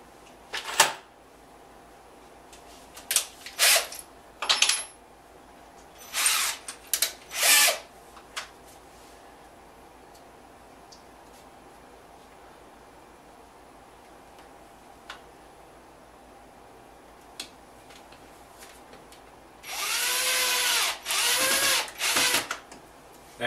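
A cordless power drill drives screws into an 18-inch aluminum-wire sculpture armature, with several short whirring bursts early on, scattered ticks and clicks, then a longer pulsing run of drilling near the end.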